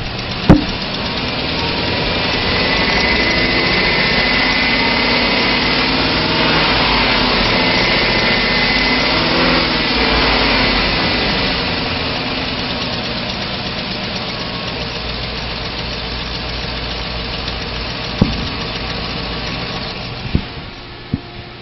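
A 2003 Chevy Silverado 2500 pickup with a 6.0 liter engine and automatic transmission idles steadily and loudly up close, a constant rumbling drone with a few small clicks near the end.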